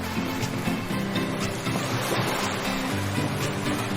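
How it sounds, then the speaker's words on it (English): Big ocean waves at a beach, a loud continuous roar of surf with steady wash filling the whole clip, no voices. "The waves were too big and they would for sure have taken us out into the deep sea"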